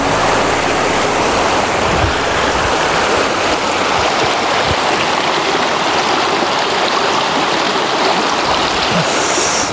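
Water of the alpine lake Anterselva (Antholzer See) in the Dolomites as a hand dips in to test it: a loud, steady rush and wash of water close by, with no voices.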